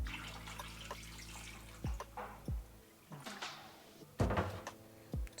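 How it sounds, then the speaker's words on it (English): Cold water runs over boiled potatoes in a bowl in a kitchen, with a soft splashing flow broken by clunks and knocks of the bowl and sink, quiet and close. "And you add cold water."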